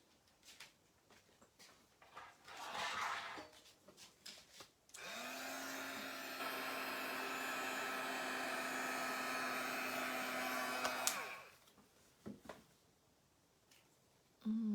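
A heat tool blows steadily for about six seconds while drying a mixed media craft heart, a loud continuous whirring hum with a steady tone that cuts off sharply, framed by quieter handling noises before and after.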